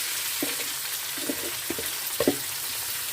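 Eggplant pieces frying in a large frying pan, with faint, steady sizzling and a few soft stirring clunks spread through the clip, quiet and close with no talk.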